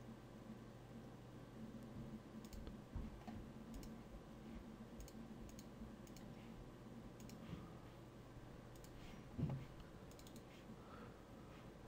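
A computer mouse clicks a few times, faint and sparse, against a low electronic hum and hiss while someone works at a computer.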